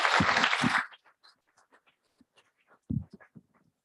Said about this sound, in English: Let's have a wonderful round of applause for Dhruv